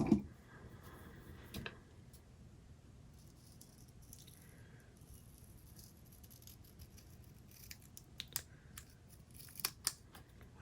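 Scissors trimming a paper planner page, quiet and close: a few soft snips near the start, then a run of sharp little clicks and cuts toward the end in a hushed room.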